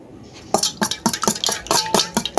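Eggs being beaten in a bowl for a pudding, about a dozen quick rhythmic clinks and taps of utensil on bowl, close and fairly loud after a quiet start.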